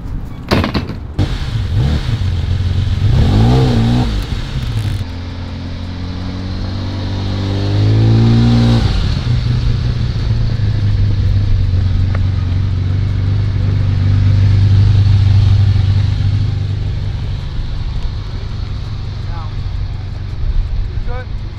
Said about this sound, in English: We're gonna push this back, put the EB110 in, and then push Shah's Bugatti in